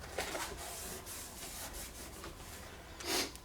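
Hand rubbing of a 1995-1999 Mitsubishi Eclipse plastic taillight lens with rubbing compound, a faint, steady, close scrubbing with soft repeated strokes and one slightly louder swipe near the end.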